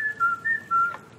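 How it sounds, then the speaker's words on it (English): A person whistles a short series of clear, thin notes, three or four brief tones with small gaps between them, close and fairly quiet in an otherwise still setting. "A little whistle now, please."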